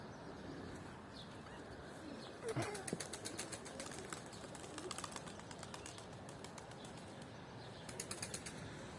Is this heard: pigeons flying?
yes